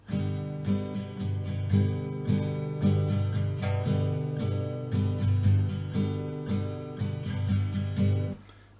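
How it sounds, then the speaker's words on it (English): An acoustic guitar strummed in a steady rhythmic pattern of chord strokes, with brief pauses between some beats, played alone and close. "when you're strumming your guitar"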